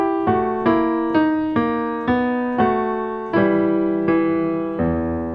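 Piano plays a steady sequence of sustained chords in a minor key, closing on an authentic cadence moving from the five chord to the one chord, each chord struck evenly and ringing clearly with no speech.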